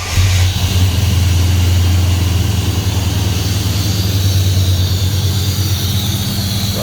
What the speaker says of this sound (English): let's see how many engine noises we get for the first initial startup